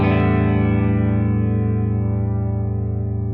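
An electric guitar chord rings out through a small chorus pedal set to a slow rate, giving a steady, gently wavering shimmer as the sustained notes slowly fade.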